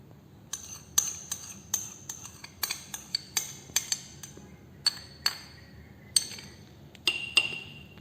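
A spoon stirring garlic and sesame oil in a glass jar clinks and taps again and again at an uneven, quick pace, close up, with a low background hum and no talking.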